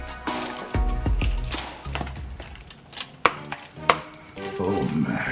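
A knife slices through a Cuban-style mojo pork butt with a series of uneven cuts and soft thuds on the board. Sharp knocks come in the second half, close and fairly loud.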